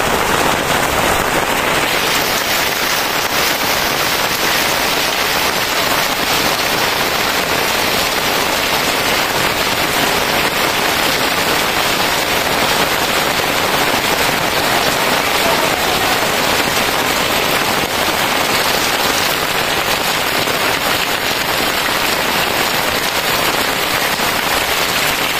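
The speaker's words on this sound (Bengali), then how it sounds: "এখন আবার অনেক প্রচুর জুড়ে নামছে" Heavy rain pours down steadily for the whole stretch as a dense, loud, unbroken hiss with no pauses and no voices.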